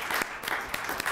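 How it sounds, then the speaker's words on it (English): Brief round of applause from an audience at a National Day of Racial Healing event, a steady patter of many hands clapping at moderate level with no talk over it. "give them a round of applause for all the work that they have done."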